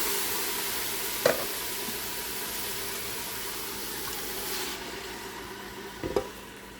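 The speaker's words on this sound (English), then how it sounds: "And we're just going to stir that around for a minute because we don't want that red pepper to burn." Red pepper sizzles in a frying pan as it is stirred and crushed tomatoes go in, a steady hiss of frying broken by two sharp utensil clinks.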